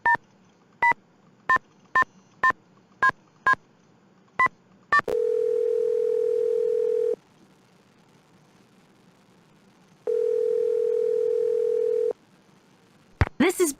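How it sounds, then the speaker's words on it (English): Inside a Nancy Drew detective video game, a phone dials a string of crisp DTMF keypad tones, then two long ringback tones sound with a pause between, followed by a short click as the call connects. "see if maybe if I can call Bess then, see if she has anything to say"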